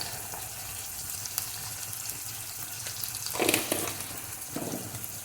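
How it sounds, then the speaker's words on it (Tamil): Chopped onion with salt sautéing in a pan for a Tamil sundakkai kulambu, a soft steady sizzle running throughout, with a brief louder hiss and scrape near the middle. "ஆனியன் வதங்கிட்டு இருக்கு."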